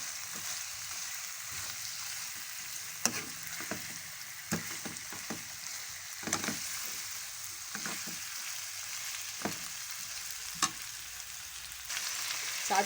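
Chicken pieces with turmeric sizzle in hot oil in a karahi while being stirred, a steady crackling fry punctuated by sharp scrapes and clinks of the spoon against the pan, without talking.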